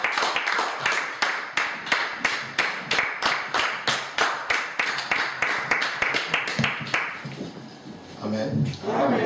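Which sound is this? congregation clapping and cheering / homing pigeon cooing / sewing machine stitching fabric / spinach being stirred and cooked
congregation clapping and cheering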